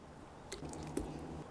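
Soft, wet squishes as a whole avocado is dropped into a blender with orange juice, lemon juice and balsamic vinegar for a salad dressing. Two brief, quiet plops about half a second apart, with no talk.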